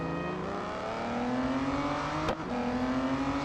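Race car engine in the Real Racing 3 video game on the Porsche test track, a steady whining drone that slowly climbs in pitch, with one brief sharp click near the end.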